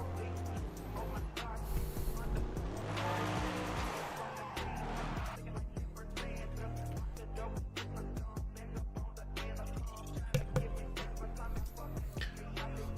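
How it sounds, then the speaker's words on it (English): Mercedes C63 AMG engine revving loudly in a sim racing drift game at Moto Arena Lodz, with tire squeal and skidding, steady close engine roar throughout alongside a commentator's voice. "To the line is Professor Poot in the C63 AMG"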